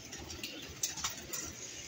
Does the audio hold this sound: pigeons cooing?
yes